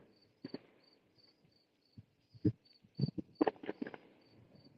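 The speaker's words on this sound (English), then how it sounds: "I hear the crickets in the Hey background." Crickets chirp in a steady, faint high trill in the background on a podcast, broken by sharper knocks and bumps nearby.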